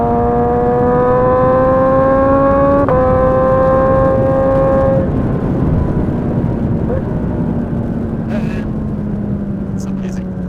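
Suzuki GSX-S1000 motorcycle engine and exhaust, loud and close: a rising, harmonic-rich whine that climbs through the revs, steps through a gear change, then settles into a lower, fading drone.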